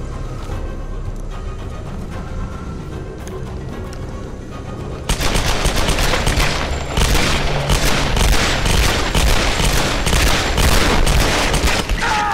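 Rapid bursts of gunfire ring out in a Tomb Raider firefight, quieter ambience at first giving way to sustained loud shooting and impacts from about five seconds on.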